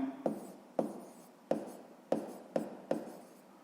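Pen or chalk strokes tap and scratch as the first step of a math solution is written out, seven short, evenly spaced marks with quick decays, close by and fairly quiet.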